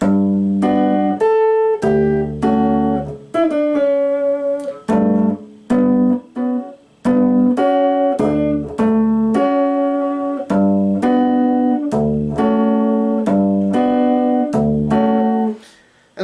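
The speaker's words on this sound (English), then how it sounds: "if I play it without sustain, it's going to sound like this." Piano chords are struck one after another without the sustain pedal, each chord ringing briefly and then cut off into short gaps, giving a choppy, detached rhythm that is loud and close with no talking.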